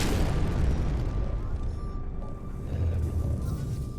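An enemy ship blown apart in space combat in No Man's Sky, a heavy low rumbling explosion that rolls on for several seconds and slowly fades, loud and alone.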